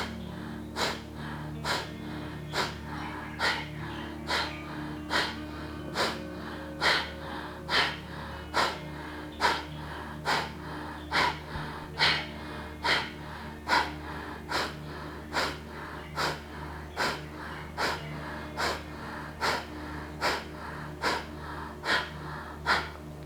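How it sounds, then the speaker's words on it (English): Forceful, rhythmic breath-of-fire style exhales during a yoga breathing exercise, a steady train of sharp nasal bursts about one per second, close and alone, with no talking. "go ahead and start the breath. Powerful exhale as you draw the navel up and back"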